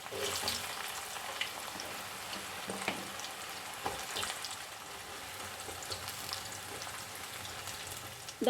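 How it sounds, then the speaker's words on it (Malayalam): Raw banana pieces for sharkara varatti deep-frying in oil, a steady dense crackling sizzle throughout with occasional stirring clinks, close and even in loudness, no talk. "ഇനി മറ്റൊരു ബാച്ചും കൂടെ നമുക്ക് വറുത്തെടുക്കാം"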